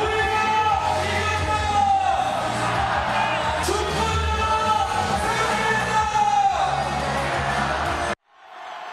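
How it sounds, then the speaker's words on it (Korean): A large crowd of citizens roars with sustained cheering, whoops and shouts, loud and continuous, with voices mingling in the din before it cuts off abruptly. "시민들은 자리를 박차고 일어나 함성을 질렀습니다."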